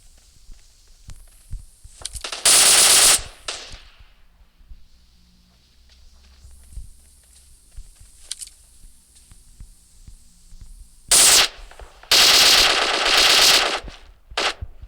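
PUBG Mobile game gunfire, with loud automatic bursts near the start, a short burst later and a longer sustained volley near the end, separated by quieter stretches of footsteps and faint scattered shots.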